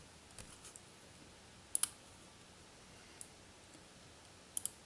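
A few sharp computer mouse clicks, isolated and spaced apart in a quiet room, a close double click among single taps while someone shops on Amazon.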